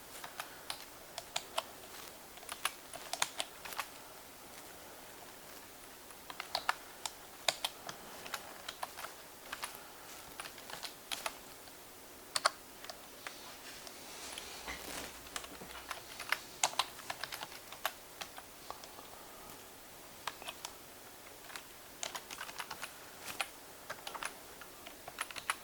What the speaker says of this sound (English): we've got a couple of command lines to type in